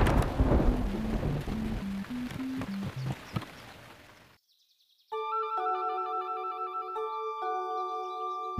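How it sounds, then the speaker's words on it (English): A cartoon storm brings dense rain and rumbling thunder under a simple melody for about four seconds, then a moment of silence gives way to a bright electronic jingle. "that lightning came really close, didn't it, Mumu?"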